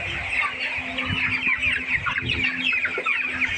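Chickens on a poultry farm cluck continuously at close range, with overlapping, busy calls and no talking.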